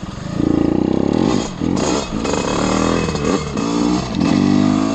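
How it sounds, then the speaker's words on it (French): A moped engine with a seized 88cc Big Racing kit and fuel starvation revs loudly and unevenly, sputtering and dipping between bursts, with rattling clatter throughout. "le moteur s'est asséché trop vite de ce qu'il l'essence arrivé"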